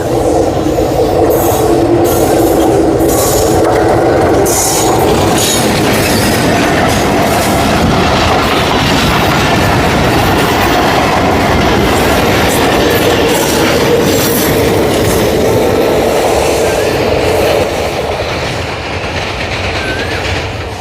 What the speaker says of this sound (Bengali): অবশেষে আর একটা ট্রেনের দেখা পাইছি আসতেছে এটা ওই দিক থেকে